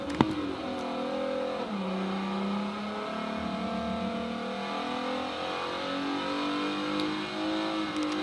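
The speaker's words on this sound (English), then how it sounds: "The ST cars are only getting to 145 miles per hour at the end of the start-finish straight." ST class race cars speeding down a start-finish straight near 145 mph in a racing simulation, several engines droning and shifting pitch together in a steady, continuous roar with no talk.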